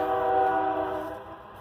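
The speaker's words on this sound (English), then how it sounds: "Got a train going by" A train horn blares loudly and steadily nearby, a sustained multi-tone blast that slowly fades as the train passes.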